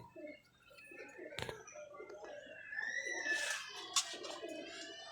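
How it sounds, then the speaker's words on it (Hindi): Golden pigeons coo softly in a series of low, throaty calls at close range, mixed with brief chirps and a sharp click. "गोल्डन कबूतर है दोस्तों"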